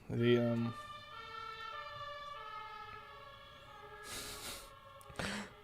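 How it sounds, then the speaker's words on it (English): A wailing ambulance siren sweeps up and down steadily, fairly close and loud, with a brief sharp honk at the start and bursts of noise near the end. "It's gonna be hard to tell if that's a actual ambulance or if that's just a super chat at some point."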